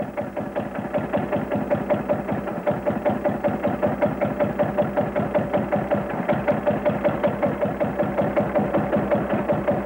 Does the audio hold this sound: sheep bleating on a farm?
no